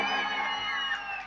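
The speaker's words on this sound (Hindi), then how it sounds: "एक बार हल्ला करके तालियां बजाओ" A village fair crowd shouts and cheers together in one sustained, bright roar of voices, steady and loud throughout without distinct pauses.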